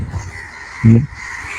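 A single crow caws once, loud and close, a short harsh burst standing out against quiet outdoor background noise.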